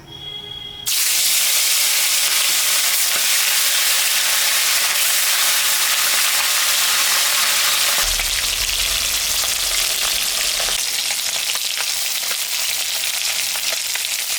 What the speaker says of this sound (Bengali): তেলটা গরম হয়ে গেছে, আমি এখন মাছটা ভাজে নেব।